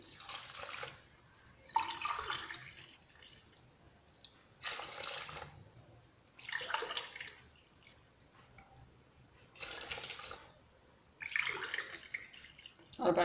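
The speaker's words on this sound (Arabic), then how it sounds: "4 كيسان تاع الماء دافي. الماء ديريه دافي." Warm water is poured in several separate bursts, roughly every two seconds, while making batter for quick Algerian baghrir semolina pancakes; the splashing is moderately close, with a faint background hum between pours.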